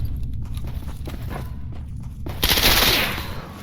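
Gunfire from the STALKER Anomaly shooter with the Old World addon, a burst of loud rapid shots after quieter scuffling and clicks, then fading reverberation.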